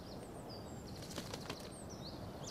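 Bird flapping its wings in the video game Life is Strange: Before the Storm, a soft fluttering burst near the middle over steady ambient game background with faint birdsong.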